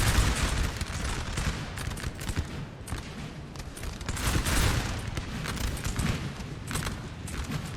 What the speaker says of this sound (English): they're getting shot at now